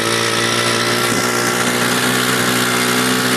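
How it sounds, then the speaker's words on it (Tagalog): A motorized tricycle's small engine revs hard and steady, a loud continuous buzzing drone with a strained, high-pitched whine, heard up close. "Yan naman kung gaano gagalit yung makina ng tricycle"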